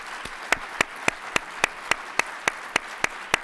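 A city hall audience gives thanks to its police department at a state of the city address, with evenly spaced, sharp claps ringing out one by one in a steady, moderately loud rhythm.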